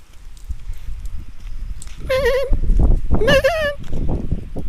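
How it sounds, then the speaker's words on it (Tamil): Goats and young kids graze on a sunny hillside near a temple, giving two loud, wavering bleats close by over a steady outdoor background, with faint shuffling between calls. "ஆட்டுக்குட்டிலாம் மேய்ஞ்சிட்ருக்கு."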